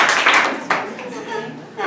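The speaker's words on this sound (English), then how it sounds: "Clap your hands." Audience members clapping their hands at a holiday comedy show, a short burst of scattered applause with one sharp louder clap partway through, fading and then rising again at the end amid room chatter.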